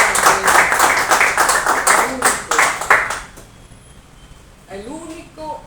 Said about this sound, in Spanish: vamos a darle otro aplauso al presidente